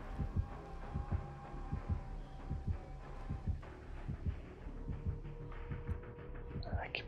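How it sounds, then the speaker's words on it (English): A steady, throbbing heartbeat pulses in a slow, regular rhythm as the killer's proximity warning in the Dead by Daylight horror video game, low and muffled under faint game ambience, with a brief higher tone at the end. "Oh, I've got the heartbeat."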